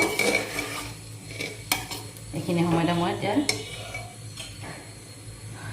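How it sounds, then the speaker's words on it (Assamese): Rice stirred slowly in a pan over a gas flame, with soft scraping and clinks of a utensil against the pan over a faint sizzle, while someone talks at times. "লাহে লাহে লৰাই দিম, নহ'লে চাউলটো ভাঙি যাব"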